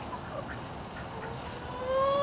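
Low clucking and soft squawks from a few chickens close by, with a steady background hum and a faint rising whine near the end.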